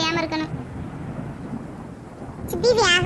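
Rain and rumbling thunder from an animated cartoon storm fill the scene with a steady wash, while a voice speaks at the start and again near the end.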